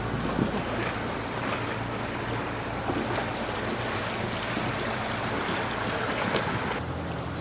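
A motorboat tows a rowing boat across a Masurian lake toward the bridge at Giżycko, with steady engine drone mixed with rushing water and heavy wind buffeting the microphone throughout.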